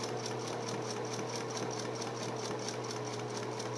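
Sewing machine stitching a straight fabric seam at a steady, continuous pace, its motor whirring with a fast even needle rhythm, close and loud throughout with no talking.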